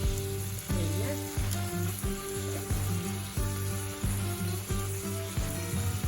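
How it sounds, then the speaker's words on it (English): Regular medium pork sausage sizzles and crackles in a pan while being cooked for homemade chili, a steady close frying hiss with repeated scraping stirs and utensil knocks throughout. "And I'm gonna add my sausage."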